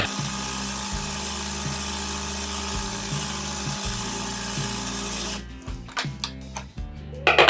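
A sewing machine runs a continuous stitch along a 1.25-inch strip on a shirt front, with a steady whirring motor and rhythmic pulses. It stops after several seconds, leaving a few scattered clatters and handling knocks.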